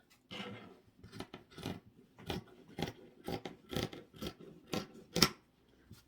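Scissors snip through extra felt on a handmade Easter gnome. About a dozen short, crisp cuts come in quick, uneven bursts, close and clear, with quiet pauses between them.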